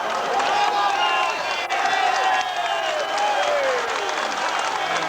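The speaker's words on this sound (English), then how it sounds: "the crowd now really reacting" Boxing arena crowd at a Marvin Hagler championship fight cheering and applauding loudly and continuously, a dense roar of voices and clapping sustained throughout with rising shouts.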